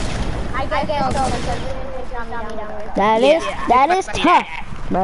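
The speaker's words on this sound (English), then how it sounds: "Why are you shooting down?" Bursts of gunfire from the video game Fortnite in a creative-mode match rattle under a voice talking loudly over it.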